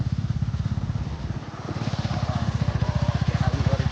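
A small, fourteen-year-old motorcycle engine putters steadily nearby, its rapid, even thumping pulse running throughout with faint road noise in the background.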